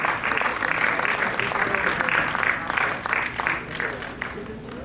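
Sustained applause from a seated conference audience welcoming a doctor onto the stage, dense steady clapping throughout with a slight fade near the end, a voice faintly audible underneath.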